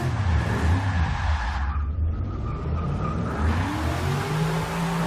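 Tires of a supercharged WS6 Trans Am squeal and skid continuously as it does donuts, the screech sweeping over a loud, close V8 engine roar.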